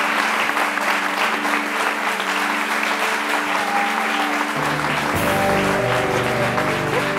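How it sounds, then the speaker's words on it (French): Audience applause at a televised honors ceremony, sustained dense clapping from a crowd that runs throughout, loud and steady, with music entering underneath partway through. "Sous nos applaudissements."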